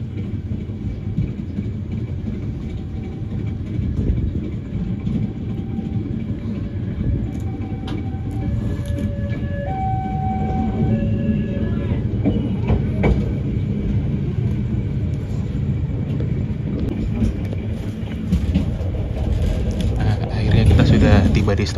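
KA Argo Semeru executive-class train running through Bekasi Timur station, a steady close rumble of rolling wheels and carriage noise throughout, with faint squeals and rising intensity near the end.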